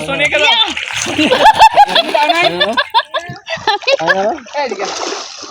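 Water splashing in a swimming pool, mostly buried under lively children's chatter and giggles close by.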